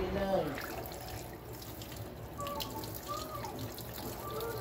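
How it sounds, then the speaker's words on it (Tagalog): Raw chicken being washed under a running kitchen tap: steady splashing water with soft handling noises throughout, and someone talking over it. "hugasan muna natin ang ating chicken"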